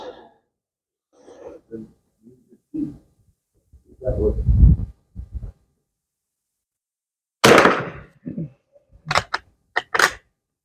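A WZ48 Polish .22 caliber training rifle fires several sharp, dry cracks in quick succession near the end, following a stretch of quieter handling noises and muffled thumps.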